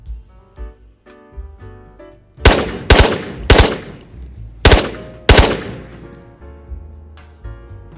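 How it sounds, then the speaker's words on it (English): Sharp, loud gunshots from a .22 in the video game Ghosts of Tabor, about five cracks fired in quick irregular succession with low background rumble between them. "Now I'm shooting at him with a 22"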